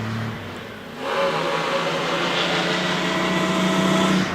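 A vintage Alvis Silver Eagle with a 2.2 litre supercharged engine at a hill climb: after a quiet start the engine note rises sharply into a loud, sustained drone with a steady tone, heard close and without talk.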